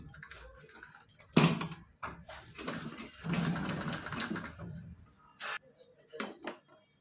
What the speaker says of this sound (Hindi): यहाँ पे हमको डबल सिलाई कर लेनी है।